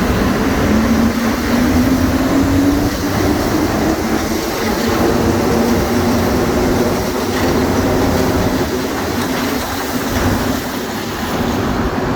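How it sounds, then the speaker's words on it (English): Montreal metro train on the Green Line running through a track switch, a loud, continuous underground roar with a rising whine and rhythmic wheel rattle throughout, no talking. "the train makes a switch there"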